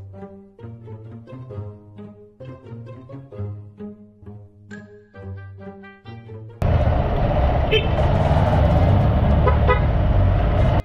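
A car horn toots in short bursts, then loud steady road and engine noise takes over as a vehicle rumbles past nearby.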